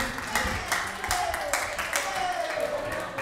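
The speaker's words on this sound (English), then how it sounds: "I think you might want a big clap." An audience claps for a volunteer receiving a certificate, a brief round of clapping in regular beats heard under voices speaking.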